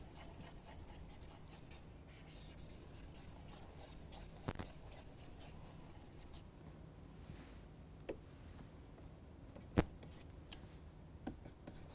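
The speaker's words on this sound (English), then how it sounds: "I am going to write it on the top." Chalk or marker writes on a board during an engineering lecture, making faint, scratchy rubbing strokes with a few sharp taps in a quiet room.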